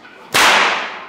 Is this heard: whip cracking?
yes